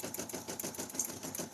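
Embroidery machine stitching out custom digitized designs on felt, a steady fast mechanical clatter with rapid even needle strikes, fairly quiet and continuous throughout with no voices.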